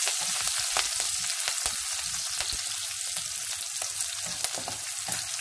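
Chilli chicken fries on a high flame with a bright, steady sizzle, broken by sharp crackles and the scrape of stirring, close and fairly soft.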